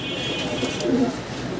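Fancy pigeons kept for sale give soft, low cooing calls, with one fuller coo near the middle of the short stretch, close by over a steady background hum.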